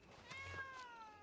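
Aldo, a cat in the video game RedM, gives a faint drawn-out meow with a second shorter mew, alone against quiet background.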